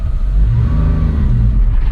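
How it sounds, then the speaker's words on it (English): A Suzuki kei truck with the F6A engine pulls away in third gear, its small engine droning loud and steady with a low rumble that rises slightly as it accelerates. "You can actually come from a full stop in third gear and get going."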